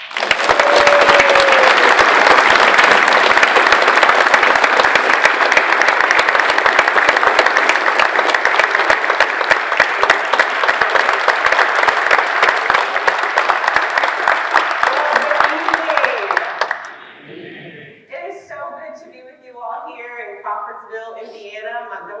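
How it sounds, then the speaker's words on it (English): Sustained audience applause greets a keynote speaker at an MLK event, loud and steady for about seventeen seconds before fading into a few scattered claps and a voice starting to talk. "please give her a welcoming applause"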